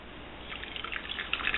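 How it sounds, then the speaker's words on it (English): A quarter cup of warm water is poured into a bowl while making honey yeast rolls, a soft trickle and splash that starts quietly and grows slightly louder near the end. "Next, I'm going to add 1/4 cup of warm water."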